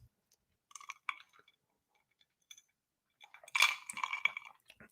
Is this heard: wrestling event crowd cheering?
no